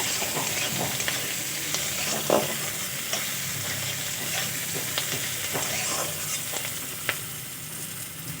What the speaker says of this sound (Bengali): পেঁয়াজটা কিছুক্ষণ নাড়াচাড়া করে ভেজে নেব।